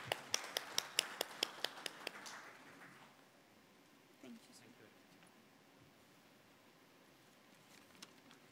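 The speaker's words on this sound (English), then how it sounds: "Let's give him a round of applause" A few people clap sparsely at a product launch event for lubricating oils, with a short burst of distinct, evenly spaced claps that dies away after about two seconds. Quiet room noise follows.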